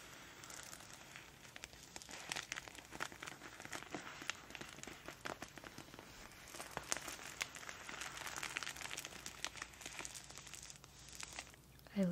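Stationery packaging is crinkled and crumpled by hand up close, a dense run of soft, irregular crackles and rustles lasting the whole stretch at a quiet, intimate level.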